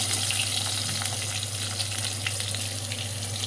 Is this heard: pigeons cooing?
no